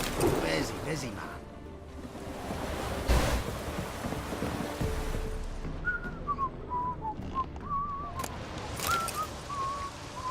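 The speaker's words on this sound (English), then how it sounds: "Proper downpour this is." Steady heavy rain hisses throughout, with a few brief thumps and a high whistled tune drifting in over the downpour.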